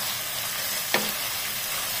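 Sliced shallots sizzling steadily in a pan, a constant bright frying hiss with one brief louder crackle midway, no voices.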